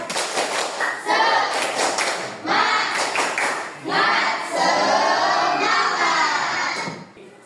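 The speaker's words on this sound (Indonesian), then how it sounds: "tepuk semangat" A group doing the "tepuk semangat" clapping routine: bursts of many hands clapping in rhythmic patterns with short pauses between sections, loud and close, with some voices mixed in.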